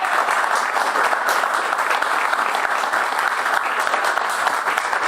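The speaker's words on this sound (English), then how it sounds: "another round of applause for Professor KehindeAndrews" Steady, dense applause from a large audience at an expo talk, continuous and full throughout with no break.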